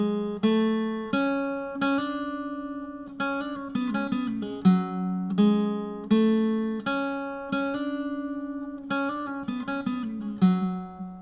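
Guitar lead part from a song, played alone as clear plucked notes in a short melodic run, with some notes ringing over a steady lower note. The tone is close and bright, and nobody speaks.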